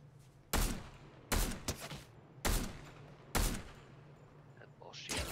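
Fortnite gunfire: four sharp, loud shots spaced roughly a second apart, each with a short ringing tail over a low steady hum, followed by a softer burst near the end.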